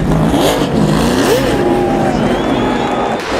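NASCAR race cars spinning and trading contact on track, engines revving loudly with rising and falling pitch throughout, a steady roar of racing under continuous noise.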